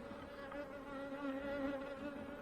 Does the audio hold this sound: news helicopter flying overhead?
no